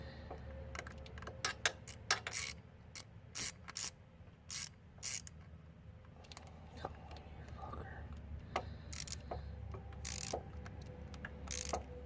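A ratchet tightens a bolt during a 2.4 engine swap into a Neon, giving close bursts of quick clicking strokes separated by short pauses over a low background hum.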